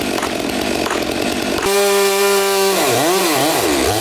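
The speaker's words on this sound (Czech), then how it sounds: "pomocí motorové pily strom odříznou" A chainsaw cuts down a fir tree, its engine loud and close, holding a steady high drone before revving up and down in wavering surges.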